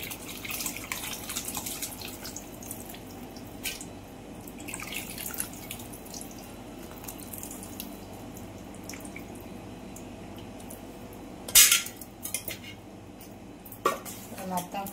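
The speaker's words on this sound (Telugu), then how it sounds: "ఇంకొద్దిగా పులుసు పోసుకుంటున్నా." Tamarind broth poured into an okra and fish curry in a kitchen pot, a steady low liquid wash beneath clinks of utensils and pans, with a louder clatter near the end.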